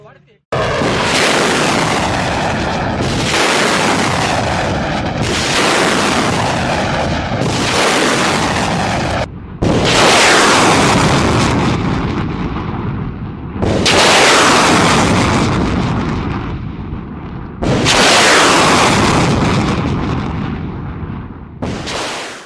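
Pinaka multi-barrel rocket launcher firing rockets in a salvo, a run of about six powerful roaring launches, each a long rushing blast that fades before the next, close and very loud.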